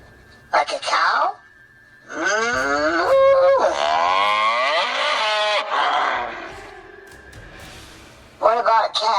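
A person imitates a cow with drawn-out, wavering moo sounds, several long bellowing calls separated by pauses, loud and close.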